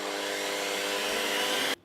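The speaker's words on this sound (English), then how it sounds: "I'm going to whisk these egg whites until they are stiff." An electric mixer whisks egg whites to stiff peaks for pancake batter, producing a steady, loud, close motor whir that runs unbroken and then cuts off abruptly near the end, with no talk.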